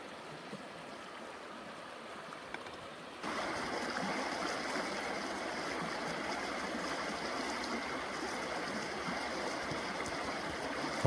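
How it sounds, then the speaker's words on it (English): Steady rushing of flowing water at the Hull-Rice-Mahoning open pit mine in Hibbing, Minnesota, a broad continuous wash that starts abruptly and stays even, with no voices. "Hopefully the sound of the water doesn't get drowned out by the mosquitoes."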